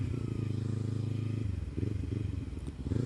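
Kawasaki Ninja 300 motorcycle fitted with an Akrapovic slip-on exhaust, idling with a steady low throbbing burble that shifts pitch partway through, close and fairly loud with no talk.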